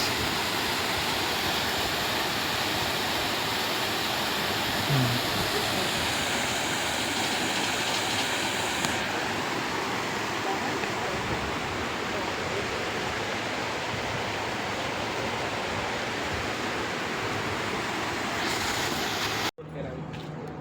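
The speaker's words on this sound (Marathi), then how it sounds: "धबधबा आहे धबधबा" A dense, continuous rushing roar from a waterfall at Mahabaleshwar fills the whole clip, heard close, broad and unbroken until it cuts off near the end.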